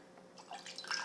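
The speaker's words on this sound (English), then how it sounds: "now I'm going to put a tiny bit of water" A small amount of water pours into an empty drinking glass, a faint, close trickle and splash that starts soft and grows slightly fuller toward the end, with no talking.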